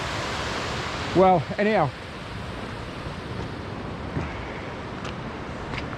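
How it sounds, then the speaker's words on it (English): Rushing water rapids on the Coast to Coast trail near Patterdale roar as a steady broadband wash, while a person speaks briefly near the start. "Look at the water rapids."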